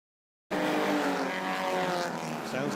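Historic race cars on a motor racing circuit, a loud engine roar that starts abruptly and holds steady as they pass close by, with no talk over it.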